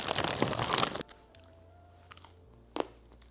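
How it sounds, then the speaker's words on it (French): A crusty baguette with seeds, bought from a French bakery in Los Angeles, bitten into with one loud crackling crunch, followed by a few quieter chewing sounds. "Maintenant, on goûte la baguette."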